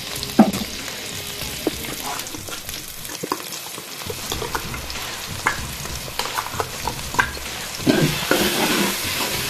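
Onions and dried red chillies sauté in a pan for an egg curry, a constant close sizzle broken by regular stirring scrapes and spatula knocks.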